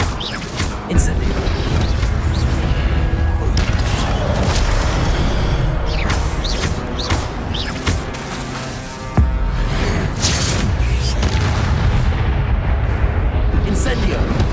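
An Incendio fire spell cast in Hogwarts Legacy, a loud sustained roaring, rumbling burst with a sharp thump near the middle, mixed with game effects and a voice.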